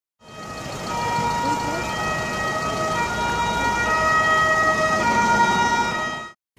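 Ambulance siren sounding at a hospital fire, a steady loud wail held for about six seconds over a background rumble of traffic and commotion.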